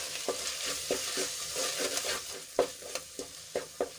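Spices fry in hot oil for Gujarati dal dhokli, a steady close sizzle broken by stirring scrapes and soft clicks of a spoon against the pan.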